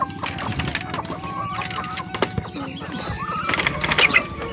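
Chicken chicks about one and a half months old cluck and peep in a backyard brood alongside ducklings, with scattered short calls over light background noise.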